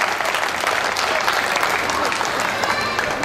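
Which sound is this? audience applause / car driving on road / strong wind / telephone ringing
audience applause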